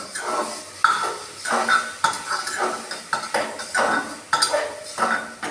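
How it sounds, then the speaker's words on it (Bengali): Potato and soya chunk curry with sauce being stirred in a pan, a spoon scraping and clinking against the metal in repeated strokes roughly every second, close and fairly loud with no talking. "এখন সস দিয়ে আমি আবার একটু নাড়াচাড়া করব"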